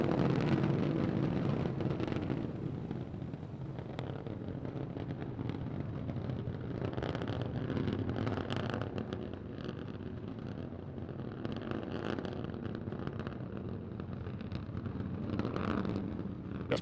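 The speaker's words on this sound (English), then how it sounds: "all 3 Raptor engines continuing to burn" Starship SN15 rocket's three Raptor engines burning in a test flight, heard as a continuous distant rumbling roar with wind-like buffeting, steady and fairly faint throughout.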